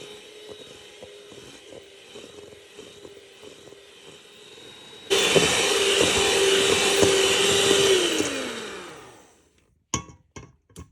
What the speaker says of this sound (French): Battre les ingrédients jusqu'à ce que ça devienne crémeux.